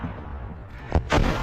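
A mortar shell explodes in war footage: two heavy, booming blasts close together, the second louder and longer, over a rumbling low background with no talk.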